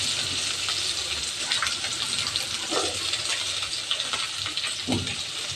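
Sliced onions and curry leaves fry in hot oil with crushed cumin and fennel, a constant bright sizzle broken by a few soft clicks and scrapes of stirring.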